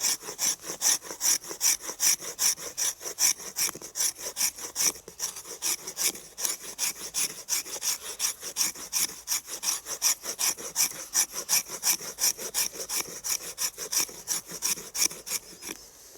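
Resinous fatwood scraped with the back of a knife blade gives a long run of quick, evenly spaced rasping strokes, close and loud, continuing steadily with no speech.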